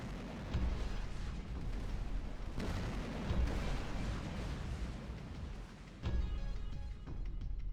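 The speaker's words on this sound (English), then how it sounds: "let's watch our turrets do some work here" Ship turrets fire in the space game X3: Terran Conflict, producing fairly faint, heavy booming blasts. A few distinct impacts stand out against a continuous rumbling bed, with no voices.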